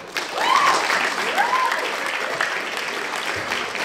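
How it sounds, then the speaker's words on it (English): Steady applause from the audience at a LEGO fan event keynote fills the hall, loud and continuous throughout, with no talk over it. "I appreciate you guys applauding me as I get a chance to catch my breath."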